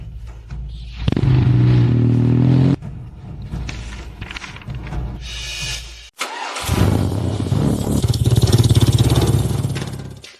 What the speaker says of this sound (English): The engine is running